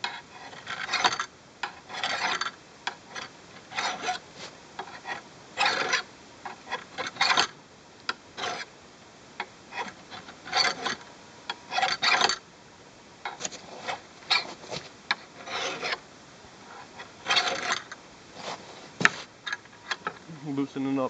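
A file rasps along an axe blade in short, repeated strokes in clusters, with brief pauses between passes.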